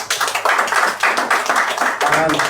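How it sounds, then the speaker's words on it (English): A crowd claps steadily throughout, a dense, sustained round of applause with a voice briefly heard near the end. "Please give them a round of applause."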